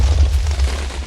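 A lit block of TNT explodes in the Minecraft video game with a dense, rumbling burst of noise that fills the short moment loudly and evenly, with no talking.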